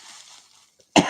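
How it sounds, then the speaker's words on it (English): One sharp, loud cough bursts out near the end after a stretch of near silence with faint breathy noise. "I cough every morning."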